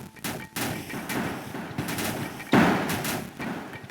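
Rapid bursts of gunfire in the game Grim Night crackle and pop continuously, with a heavier blast partway through, dense and close, while shooting at a golem.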